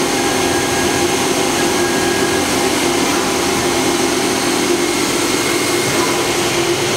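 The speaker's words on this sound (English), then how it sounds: "We're running a pretty simple program just to cycle the machine back and forth." Hitachi Seiki HT-20SIII CNC turning center cycling back and forth with the spindle at 2800 RPM, a steady loud broadband whir and hum that holds constant throughout, heard close without speech.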